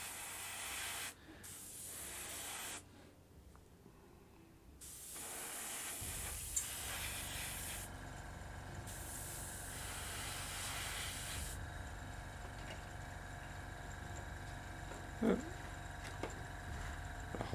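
An airbrush spraying paint onto Khorne Daemon miniatures gives a steady close hiss, broken by short pauses and shifts in level as the trigger is worked, with no talking.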